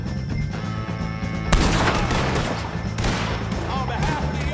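Gunfire against the O'Driscoll gang in Red Dead Redemption 2 erupts as loud, dense volleys of shots over a low ambient hum, with voices mixed faintly under the shooting.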